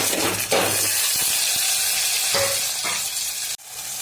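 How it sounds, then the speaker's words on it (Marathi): A wet masala of coconut, garlic and coriander is added to hot tempering oil with onion for a masala egg curry. It sizzles loudly and steadily throughout, with stirring scrapes and a sharp clank near the end. "खोबरं, लसूण आणि कोथिंबीरचा ओला मसाला याच्यामध्ये फोडणीला घालून मी 2 मिनिटं व्यवस्थित परतून घेते"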